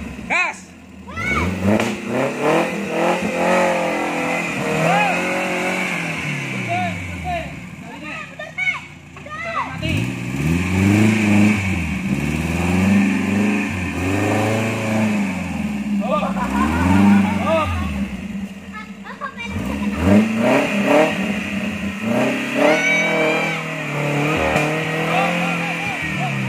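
Engine of an off-road vehicle revving hard and accelerating in repeated surges, loud and close, with excited voices of adults and children talking and shouting over it throughout.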